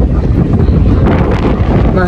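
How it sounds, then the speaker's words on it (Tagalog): Strong sea wind at a Barcelona beach in Poblenou buffeting the microphone, a loud, constant rushing roar with low gusty thumps, alone for the whole short stretch. "Mahangin siya, mahangin."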